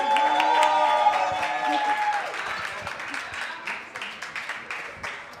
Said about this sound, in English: If we get a round of applause.